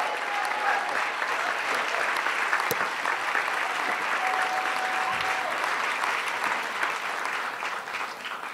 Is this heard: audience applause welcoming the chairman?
yes